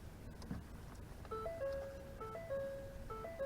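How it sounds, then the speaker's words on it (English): A repeating electronic chime from a 2017 Ford Focus Wagon, warning that the headlights are left on, plays a simple stepped melody in a steady loop, moderately loud over a quiet low rumble. "that's a kind reminder to let you know that your headlights are still on"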